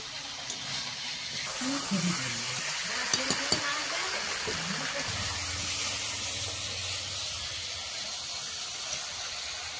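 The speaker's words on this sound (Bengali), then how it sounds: "মাংসটা কড়াইতে দিয়ে দিয়েছি, এবার ভালোভাবে কষিয়ে নেব।" Meat sautés in a kadai with a soft, steady hiss and sizzle running underneath, while someone talks over it at close range.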